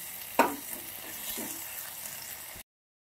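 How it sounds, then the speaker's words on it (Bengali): Chopped onion and green chillies sizzle in hot oil, a soft steady crackle with one sharp clatter near the start, fairly quiet before cutting off abruptly. "আর পেঁয়াজ কুচি করে দিয়ে দিচ্ছি তেলে"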